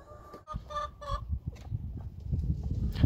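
Hens cluck in short bursts, close by, amid rustling and shuffling noises.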